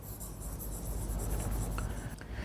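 A marker or pen scratches across a board or paper during a Class 12 maths lesson on relations, with soft strokes and taps repeating close by and no talk.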